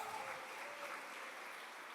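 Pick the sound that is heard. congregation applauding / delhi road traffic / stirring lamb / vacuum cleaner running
congregation applauding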